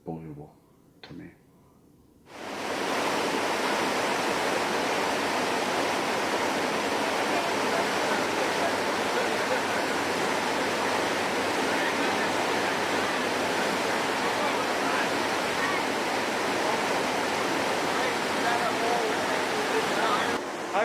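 A river rushes in a loud, steady broadband roar that starts abruptly after a few quieter seconds with faint sounds, then holds constant and close for the rest of the span.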